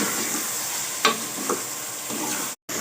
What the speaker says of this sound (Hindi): अब इसको 5 से 7 मिनट के लिए अच्छी तरह से फ्राई करूंगी ताकि टमाटर और प्याज दोनों अच्छी तरह से गल जाएं।